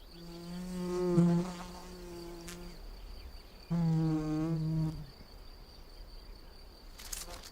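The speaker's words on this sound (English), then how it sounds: "She now flies to and fro, depositing pollen into the belly of the nest." A red-tailed mason bee buzzing in flight, two close, loud, droning passes separated by a quieter gap.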